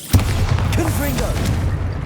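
A fiery Confringo spell blast in the Hogwarts Legacy game lands as a sharp, loud boom followed by a crackling roar, while a voice speaks over the blast.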